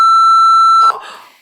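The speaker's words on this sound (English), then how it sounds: "We'll just have to beep that swear word out." A loud, pure censor beep holds one steady tone for nearly a second, covering a swear word. It then cuts off into brief muffled talk that fades away.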